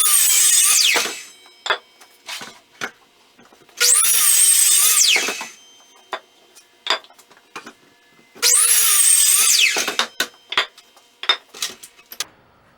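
A power tool whines through lumber in three loud, sustained cuts, each followed by scattered clacks and knocks of wood being handled in a shop.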